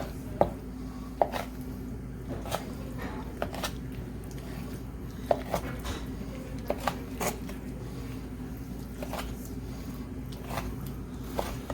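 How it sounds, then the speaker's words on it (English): A knife chops vegetables for pancit on a cutting board in irregular, crisp taps, some in quick pairs, close and fairly quiet over a low steady background hum. "Careful as you chop."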